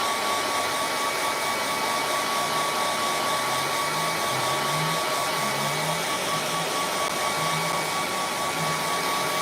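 A hair dryer runs steadily and loudly to dry wet paint on a canvas, a constant close whoosh with a faint motor hum beneath it.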